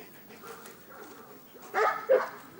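A dog being ordered to lie down gives a few short whimpering yelps, nearby, amid quiet room noise and faint low murmuring.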